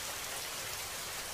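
Heavy rain in a cartoon, a steady dense hiss of downpour with no breaks, fairly faint and even throughout.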